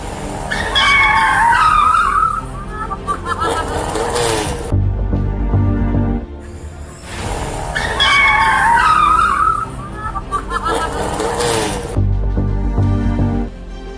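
An angkot minibus drifts on a road, tires skidding and squealing loudly in two long bursts, each followed by a low engine rumble, with the pattern repeating.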